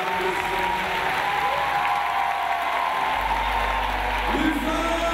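A church congregation applauds and acclaims the Lord during an evening worship service, steady dense clapping filling the room with a low rumble of crowd noise throughout.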